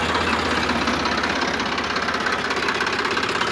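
Sonalika DI 35 tractor diesel engine with a Bosch inline pump idling in side gear: a steady, loud, close chugging rumble with an even knock, no talk.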